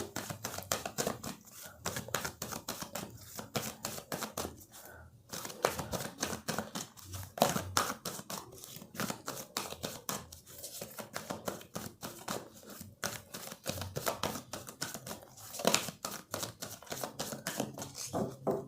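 Tarot cards are shuffled and drawn from the deck in rapid, continuous close-up flicks and snaps, a dense clicking patter running throughout.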